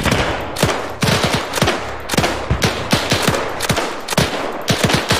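Rapid bursts of automatic gunfire and single gunshots crack through a World War II battle in Arma 3, set in 1945 Berlin, firing in uneven clusters close by with no talking.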